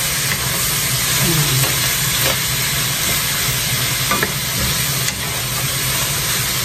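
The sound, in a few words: sautéing udon with tuna in a pan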